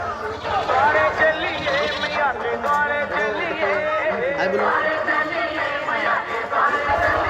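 Crowd of devotees at Kudargarh temple in the morning, a steady dense babble of many voices milling close by with scattered louder calls throughout.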